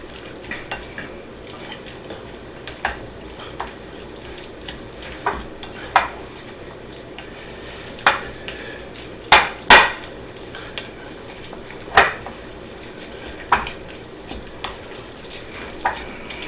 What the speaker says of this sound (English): a cup or something like that of the Pecorino Romano cheese. Let's go ahead and stir these in well.